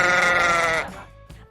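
A goat gives one loud, close bleat lasting under a second. Quieter sounds follow before a brief noise at the very end.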